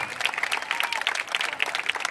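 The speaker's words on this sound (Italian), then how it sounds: "Vogliamo fare un applauso forte a Rita," An outdoor crowd at a taranta festival claps enthusiastically, a loud, dense stream of many hands applauding continuously with no voices standing out.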